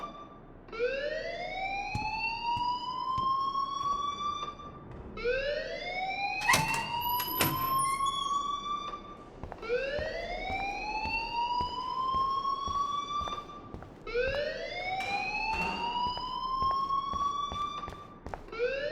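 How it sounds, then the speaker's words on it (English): A rising siren-like school alarm wails in the video game Life Is Strange, repeating in regular whoops about every three seconds and loud throughout, with a few sharp clicks partway through. "please turn off that alarm since that's your job"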